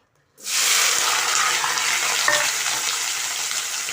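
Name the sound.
chopped vegetables added to a sizzling pan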